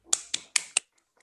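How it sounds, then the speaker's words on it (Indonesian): Four sharp, evenly spaced claps ring out in a classroom for a student during a micro-teaching session, each a crisp snap close by, then silence with a couple of faint ticks. "berikan aplaus untuk Saudari Nani Mariliati"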